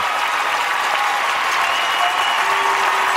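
A standing arena crowd at the 2014 U.S. figure skating nationals applauds skater Jeremy Abbott after the men's free skate, a dense, sustained wash of clapping that stays loud throughout.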